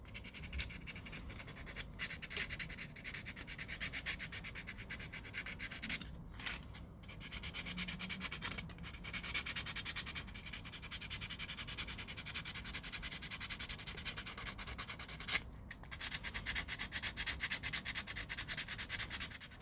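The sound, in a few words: sanding a flea-market toy car's fender smooth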